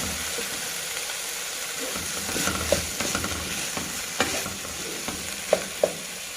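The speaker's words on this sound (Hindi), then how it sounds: "अब इसके अंदर टमाटर डाल दें।" Chicken sizzling and frying steadily in a pan as tomatoes are added and stirred in, with a few louder scrapes and clicks of a utensil against the pan.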